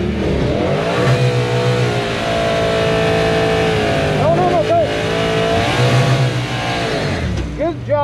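A loud drag racing car engine roars and revs hard at an NHRA drag strip, rising in pitch as it launches, with people talking and shouting over the noise.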